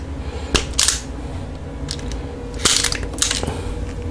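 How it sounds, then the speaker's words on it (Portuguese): A tool strips the insulation off a 2.5 mm electrical cable, giving two sharp clicks each followed by a crunching scrape, up close and fairly loud. "Eu vou decapar o condutor."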